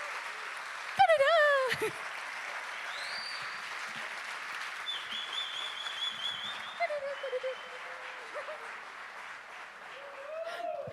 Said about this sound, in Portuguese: levante as duas mãos lá em cima, as duas lá em cima, e aplaudam o que Deus criou